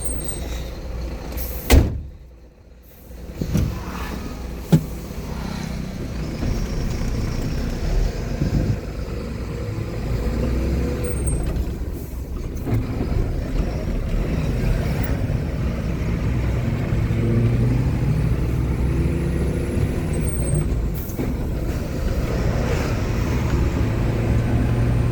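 A BharatBenz truck heard from the cab while driving: a steady, loud, low engine rumble builds and holds, with a sharp bang from a door or latch at the start.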